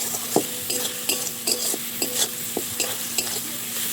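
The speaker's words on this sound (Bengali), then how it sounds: "মশলাটা ভাজা ভাজা হয়ে এসছে" Garlic, onion and spices for a spicy Katla fish and brinjal curry fry in a pan with a steady sizzle, while a utensil scrapes and stirs at a regular rhythm, about eight distinct strokes close by, with no talking.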